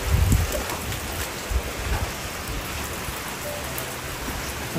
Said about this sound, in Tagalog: kasi may umuulan eh.